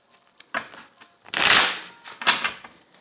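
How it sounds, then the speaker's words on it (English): A deck of tarot cards shuffled by hand close up: a few soft taps and flicks, then a crisp riffling burst, followed by more quiet card handling and short snaps, with no voice. "I am going to shuffle these cards again."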